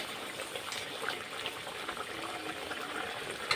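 Water poured into a simmering mrigal carp curry gravy makes a soft, continuous liquid hiss with faint bubbling, low in level and steady throughout, with no voices.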